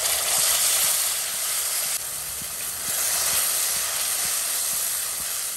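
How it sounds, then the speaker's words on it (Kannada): Curry leaves and ground wet masala fry in a kadai for egg chutney, giving a steady broadband sizzle and hiss throughout, alone, close and fairly loud, with a few faint soft clicks underneath. "ಇದರ ಹಸಿ ವಾಸನೆ ಹೋಗುವವರೆಗೆ ಇದನ್ನು ಫ್ರೈ ಮಾಡ್ಕೊಳ್ಬೇಕು"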